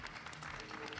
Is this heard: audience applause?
yes